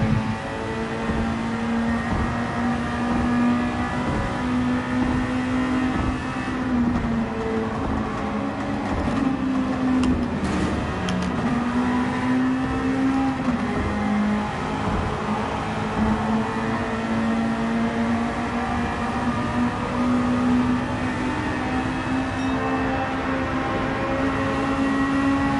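A car engine in Gran Turismo 7 holds a steady drone that rises and dips slightly in pitch as it is revved out, continuous and fairly loud with no talk.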